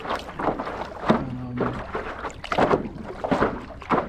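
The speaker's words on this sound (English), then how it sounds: "so I'm going to paddle over there" A stand-up paddle board paddled across open Arctic water near Tuktoyaktuk, with a few close splashing paddle strokes, a gurgle and drip of water, and light wind over a few seconds, no talking.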